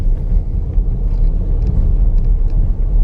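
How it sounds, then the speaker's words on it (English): A Dodge Durango R/T with a Hemi engine and all-wheel drive rolls through about five inches of snow on the road, giving a loud, steady low rumble of engine and tires heard from inside, with no talking. "It's just so nice having this Durango with all-wheel drive driving through the snow."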